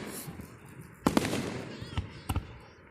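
A fireworks display goes off as a few sharp, cracking bursts, with two close together near the middle and a quick pair near the end, over a low background rumble.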